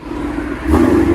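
A nitrous-boosted 2017 Ford Mustang GT 5.0 on E85 with dual exhaust, headers and Corsa axle-back, giving a loud, close, brief rising engine rev.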